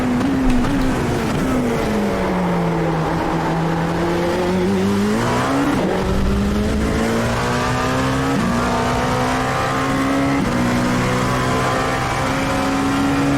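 Dallara P217 race car in iRacing at Suzuka, its engine droning steadily with rising and falling pitch as it accelerates and shifts gears, loud and continuous throughout with no talk.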